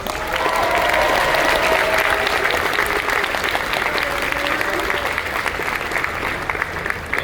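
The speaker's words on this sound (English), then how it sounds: "Please give them a huge round of applause" Audience applause for a panel at the close of a question session, a dense, steady clapping crowd that stays loud throughout, with a few voices whooping or calling out underneath.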